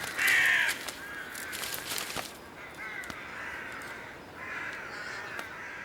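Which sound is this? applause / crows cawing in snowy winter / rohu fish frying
crows cawing in snowy winter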